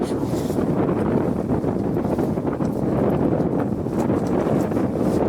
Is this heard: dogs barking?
no